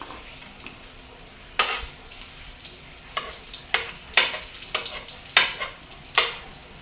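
Garlic frying in a pan for a sardines-with-miswa dish, giving a steady sizzle broken by several stirring scrapes and clinks of a utensil against the pan, heard close with no talking.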